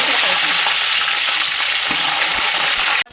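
Long-cut green chillies drop into browned garlic in hot oil, raising a loud, steady sizzle that holds for about three seconds before cutting off abruptly.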